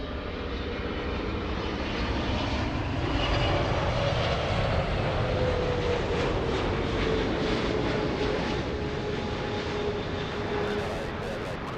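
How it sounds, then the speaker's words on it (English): A heavy Boeing 777 touching down at LAX, a loud sustained jet roar with a slowly falling engine whine, steady and close throughout. "heavy 777 touching down"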